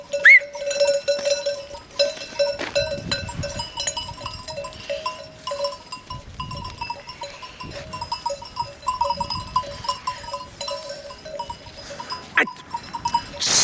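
Sheep flock on the move near the Mudurnu stream, with bells clanking steadily over scattered bleats at close to middle distance, a continuous busy layer of livestock sound throughout.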